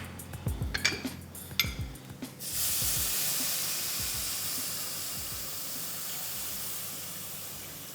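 Fish curry masala simmering in a pan after water is poured in, a few clinks and pan sounds at first, then a steady soft hiss of bubbling liquid.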